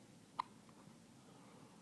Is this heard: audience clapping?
no